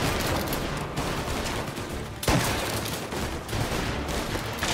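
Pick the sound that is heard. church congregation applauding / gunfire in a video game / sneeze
gunfire in a video game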